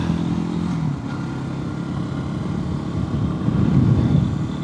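Motorcycle taking off from a stop, its engine rumbling low and steady before swelling louder as it accelerates away toward the end.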